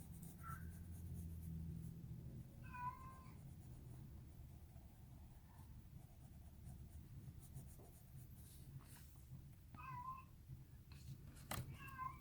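A pet cat meows several times in short separate bursts, fairly close and at moderate volume, over a quiet room with the steady scratch of colored pencils on paper.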